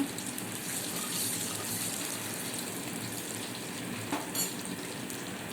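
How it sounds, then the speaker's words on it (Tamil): Steady, close sizzling and crackling of garlic frying in hot oil for a fish curry, with faint stirring and no talking. "பூண்டு போடுங்க. கொஞ்சம் நல்லா வதக்கிக்கோங்க."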